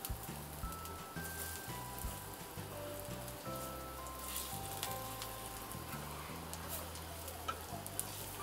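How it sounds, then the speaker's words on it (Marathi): Colocasia leaf tikkis pan-fry over a low gas flame with a soft, steady sizzle and crackle, faint and even throughout, with a gentle background tune playing beneath it. "आता हे आपण सगळ्या पलटी करून घ्यायच्या आणि बारीक गॅसवर भाजून घ्यायच्या"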